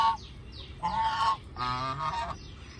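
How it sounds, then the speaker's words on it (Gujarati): Pekin duck honking on a farm pond with water flowing in from a motor pump, several loud nasal calls in quick bursts. "બતક"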